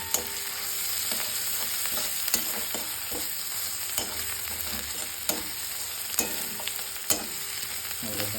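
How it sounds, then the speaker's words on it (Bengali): Chopped ginger and garlic fry in a hot pan with a steady bright sizzle, broken by occasional scraping stirs, close up and alone. "এবার আদা রসুন কুচিটা দিয়ে দিলাম, একটু নামিয়ে একটু লাল লাল করবো"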